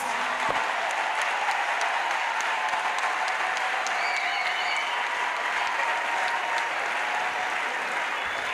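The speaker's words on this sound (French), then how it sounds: "Acclamation pour le Seigneur Jésus-Christ" Congregation at a Christian crusade gathering in Douala applauding and cheering for the Lord, a dense sustained roar of clapping with scattered shouts, steady and loud throughout.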